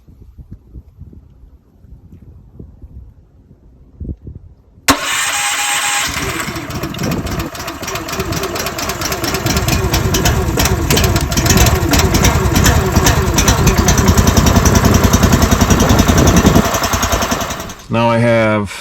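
A Honda engine on a Garland log splitter starts cold after a quiet stretch of a voice talking, catching abruptly and then idling loud and steady with a buzzy, chugging rhythm before a brief dip near the end.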